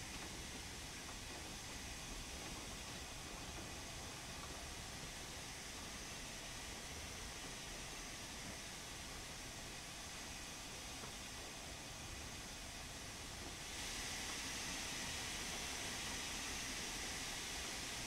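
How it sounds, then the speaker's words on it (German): A steam locomotive runs in the Train Sim World 2 video game, heard as a steady, faint hissing and chuffing wash that holds constant and grows slightly brighter near the end. "Ganz schön laut mit den Dampfloks."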